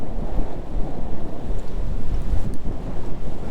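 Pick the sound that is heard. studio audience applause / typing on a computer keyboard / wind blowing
wind blowing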